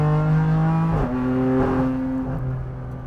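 A BMW M4 GT4 track-only race car drives a hot lap on a warm day. The loud in-car engine note holds steady, dips sharply as the driver lifts or shifts, then climbs again under steady throttle.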